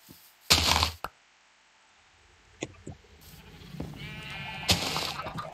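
Sheep bleating in Minecraft, with two loud close bleats, a short one and a longer one later, mixed with a few sharp clicks and thuds of game action.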